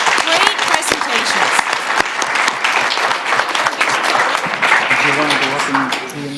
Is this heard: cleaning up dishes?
no